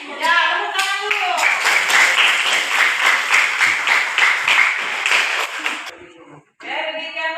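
A classroom of students claps together in a fairly quick, rhythmic burst lasting several seconds, close and lively, with a voice speaking just before and after.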